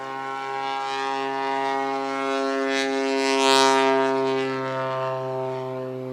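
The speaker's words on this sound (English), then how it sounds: "here goes Liam Ferguson for his third and final takeoff." A STOL bush plane on bush wheels takes off during a short-takeoff-and-landing competition at the Valdez air show in Alaska. Its propeller engine gives a steady, loud, droning hum that swells midway and then eases slightly, with no voices.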